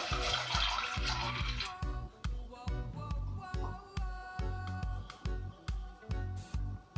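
Water is poured into a cooker of roasted, skinned peanuts for groundnut kulambu, a short splashing gush followed by a run of quick, evenly spaced clinks and knocks, close and fairly quiet.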